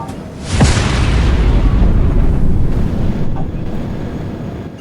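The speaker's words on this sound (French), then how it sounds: "Ok, explosion du vaisseau." A spaceship blows up in a video game with a sudden deep boom, then a sustained loud roaring rumble that carries on for several seconds with no talk over it.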